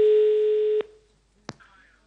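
Telephone line tone during a Swedish TV bingo call-in show, a steady loud tone lasting under a second that cuts off, followed by a short sharp click and faint line noise.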